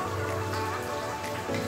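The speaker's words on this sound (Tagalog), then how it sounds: "lagyan na natin yung mixed vegetable" Mixed vegetables go into a hot frying pan with chicken liver, raising a dense, continuous crackling sizzle like rain on a surface for the whole short moment, with no voice.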